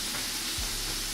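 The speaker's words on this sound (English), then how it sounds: "we'll go ahead and lay these down in the frying pan" Beef strips sizzle in a frying pan as enchilada filling cooks, giving a brief, steady, close hiss of frying.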